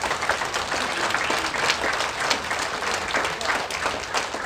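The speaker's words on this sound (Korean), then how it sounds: "박수 한번 보내드릴게요." Sustained audience applause fills a hall at a peace forum keynote, a dense steady wash of many hands clapping with no pauses, moderately loud throughout.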